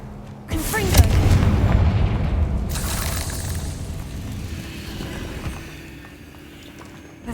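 A Confringo fire blast spell in Hogwarts Legacy bursts with a loud booming impact, then a long crackling, rumbling decay that slowly fades over several seconds.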